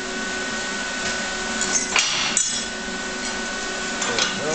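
A plasma cutter slices through 3/8 inch aluminum with a loud, steady hissing roar, broken by a few brief crackling bursts as the cut progresses.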